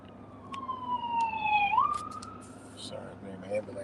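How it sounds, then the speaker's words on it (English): Ambulance siren wailing outdoors, a steady falling and rising tone heard at moderate distance over traffic rumble, with brief clicks and faint background noise. "Sorry, man, ambulance coming."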